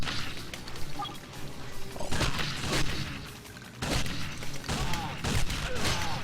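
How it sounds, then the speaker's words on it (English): Shotgun fire in 007: Nightfire, several heavy blasts spaced a second or two apart over continuous game noise, with a voice talking underneath. "you just shoot him a bunch of times with the shotgun"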